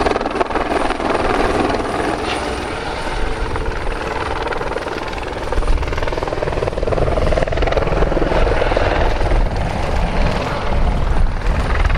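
A helicopter flies a display at the Cholet 2022 air show, its steady, loud rotor and turbine roar continuing throughout in gusty wind.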